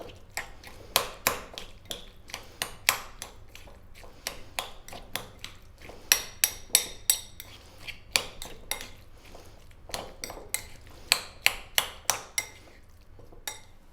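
A utensil clinks repeatedly against a bowl while mayonnaise sandwich filling is mixed, giving a steady run of sharp, close ticks and taps over about fourteen seconds, with no talking.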